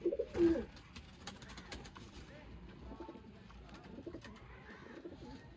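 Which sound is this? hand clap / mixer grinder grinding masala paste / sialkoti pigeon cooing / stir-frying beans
sialkoti pigeon cooing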